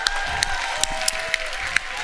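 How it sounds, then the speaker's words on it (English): An audience applauds steadily at a leadership event, dense continuous clapping with a few sharper claps standing out, filling the space without speech. "It's better to stand up and applaud these people."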